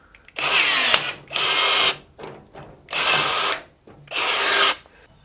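Cheap cordless 1/4 inch rivet gun pulling rivets, a close, loud high-pitched motor whine in four separate bursts of about a second each, with short gaps and a brief smaller burst between.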